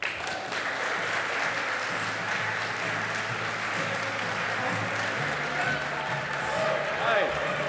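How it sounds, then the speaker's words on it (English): Audience at a charity gala applauds for Garrett Biedenbaugh: steady, dense clapping from a crowd that runs the whole stretch, with some voices murmuring underneath. "Please help me in giving a rounding applause for Garrett Biedenbaugh."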